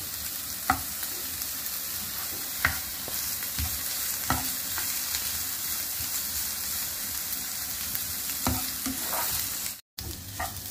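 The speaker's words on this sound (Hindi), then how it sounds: "फकत ऑनियन रोस्ट करपाचो, मातशें फ्राय करपाचो" Onions frying in a pan, a steady close sizzle throughout with a few sharp clinks of stirring and one brief dropout near the end; no one speaks.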